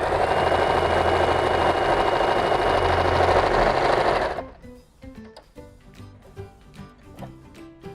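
A Janome 743D portable sewing machine stitches with a loud, steady mechanical whir for about four seconds, then stops abruptly and leaves faint clicks and handling noises.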